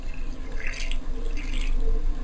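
Water being added to sifted flour for samosa dough, soft splashing and dripping pours in two short bursts over a low background hum, close and without talk.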